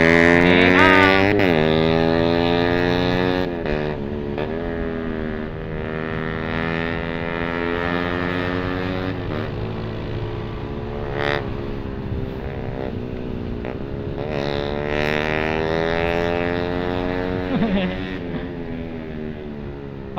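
A Honda Winner X motorcycle fitted with a Pro Liner open exhaust pipe runs and revs. It gives a steady, loud, close exhaust drone with a couple of sharper throttle blips, and someone speaks over it.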